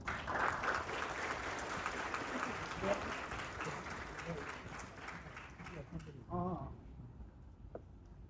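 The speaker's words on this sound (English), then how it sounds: "Please give a big round of applause." Applause from an audience at the closing ceremony of the KSHRD Center's 13th-generation basic course, fairly quiet and steady, thinning toward the end as a few voices come through.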